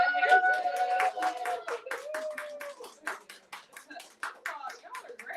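A small audience claps, scattered hand claps rising then thinning into separate, rhythmic claps, with a few voices calling out at the start.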